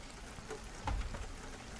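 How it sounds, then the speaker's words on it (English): Soft, steady background rain pattering on a surface, faint and continuous with a slightly louder patch midway, no voices. "the rain was like really, really, really soft, but I can always lower the volume to it if it's too loud"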